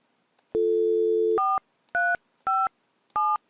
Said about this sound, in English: And then I'll dial the self-provisioning number, and this phone should then belong to Andre.